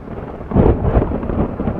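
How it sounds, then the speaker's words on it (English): A deep low rumble of thunder rolls in during a storm at an outdoor dove hunt, swelling quickly and holding for a couple of seconds with no talk over it. "Thunder."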